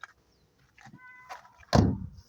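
A first-generation Ford Focus, which shows a false door-open warning, has its trunk opened: a few faint clicks and rattles come first, then a loud, close latch thunk as the lid releases.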